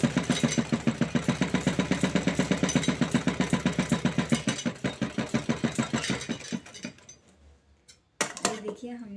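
A sewing machine stitches blouse fabric in a fast, steady run of rhythmic clatter, slowing and stopping partway through, followed by a brief handling rustle. It is close and fairly loud, with no talk over it.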